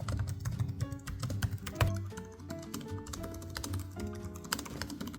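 Quick clicky typing on laptop keyboards, an MSI Stealth 14 AI Studio and an Asus ROG Zephyrus G14, with dense, irregular close taps over a low background hum.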